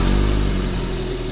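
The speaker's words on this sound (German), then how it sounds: "Achtung, der V8 startet." A V8 engine in a car starting and revving, a loud deep throbbing rumble that swells at the start and then settles into a heavy steady roar, close by with no voices.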